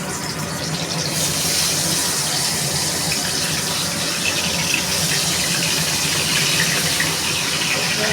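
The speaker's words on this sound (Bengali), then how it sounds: "আমি মাছটা ভাজতে দেবো।" Fish frying in hot oil, a steady loud hiss and crackle that starts abruptly at about a second and holds unbroken to the end, with no talking.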